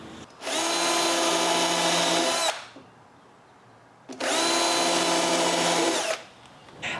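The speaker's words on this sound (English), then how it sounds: "To drill the pilot holes, I remove the door." Power drill boring pilot holes for cabinet door hinges, two steady high whirring runs of about two seconds each, close and loud, separated by a short quiet pause.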